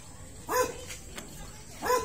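Dogs in Baliwag, Bulacan, in the Philippines, bark twice, close by and fairly loud, a short gap between the two barks, with no talking.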